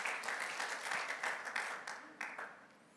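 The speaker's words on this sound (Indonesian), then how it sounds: "Tepuk tangan bagi Tuhan Yesus." A church congregation at an Indonesian Sunday service claps for Jesus, a dense wash of applause that swells and dips in a few waves over three seconds, moderately loud and fading toward the end.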